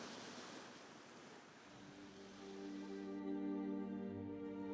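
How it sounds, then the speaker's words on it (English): Waves break on a shore in the wind, a steady wash of surf with gusts against the microphone, and a sustained tonal hum rises underneath partway through. "the same breaking of the waves, the same sun, the same wind in the broom plants."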